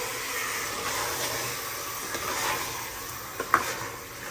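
Masala spices being stirred and mixed into biryani in a pot, soft continuous scraping and sizzling with a couple of sharper clinks near the end, no talking.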